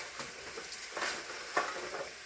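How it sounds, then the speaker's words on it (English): Bacon frying in a pan at home, a steady soft sizzle with a few brief louder crackles and stirring scrapes, heard close up with no talking. "we're going to fry up the bacon"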